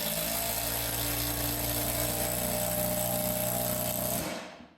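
Ryobi impact driver driving a lag bolt on speed 3, a loud, steady rattling whine that runs continuously for about four seconds and then cuts off abruptly.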